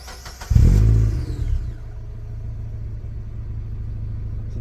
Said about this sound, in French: Comme ça je vais vous filmer un peu le démarrage les amis.